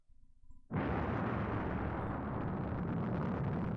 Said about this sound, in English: That's not a gunshot. Those are explosions.